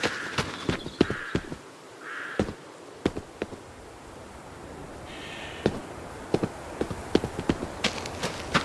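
Horse hooves in the Adios game, an irregular clip-clop of hoofbeats on hard ground with outdoor ambience, birdlike calls and insect buzzing in the background.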